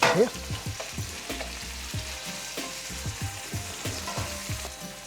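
Garlic sizzling steadily in a hot pan, with a spatula scraping and clicking against the metal in an uneven rhythm.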